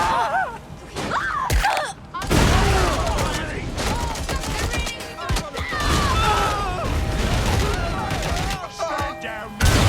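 Gunfire in the video game Watch Dogs Legion: bursts of shots and booms mixed with dramatic in-game dialogue and shouting voices over a dense, loud battle soundscape.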